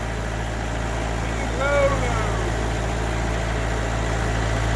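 A Kioti DK45S tractor that sat outside for three years runs steadily while driving in a low gear, a constant low engine drone with a faint higher tonal whine rising briefly midway, fairly close and unbroken throughout.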